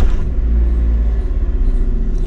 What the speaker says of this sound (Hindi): अभी मैं जा रही हूँ कार का चक्कर लगाने अकेली